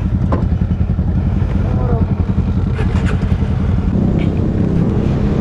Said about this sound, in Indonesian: Kali ini saya mau lagi pakai Vespa.